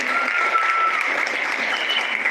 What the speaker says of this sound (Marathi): एका मॅडमसाठी जोरदार टाळा आहे